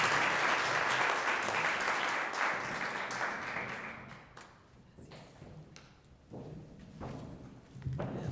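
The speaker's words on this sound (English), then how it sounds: "We welcome with a round of applause Ms. Rojas." An audience at an award ceremony applauds with steady, dense clapping that gradually thins and fades, mixed with a few scattered louder claps near the end.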